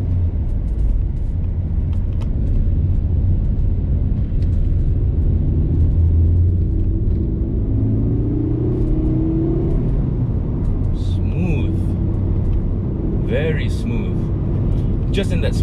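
A Proton Iriz 1.6L Premium manual hatchback cruising on a highway, a steady loud interior rumble of engine and road noise throughout with a slight rise in pitch midway, plus faint clicks near the end.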